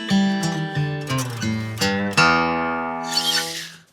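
A short fingerstyle guitar phrase from a chorus plays as several plucked notes that step downward, then a final chord rings out and fades. It sounds clear, close and unaccompanied.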